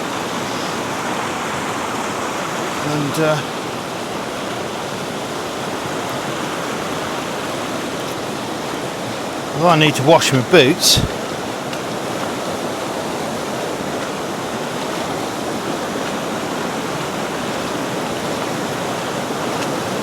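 River Valency in Boscastle rushing high and spilling over onto a riverside path, a steady broadband roar of flowing water throughout, with someone speaking briefly over it and some close rustling clatter midway.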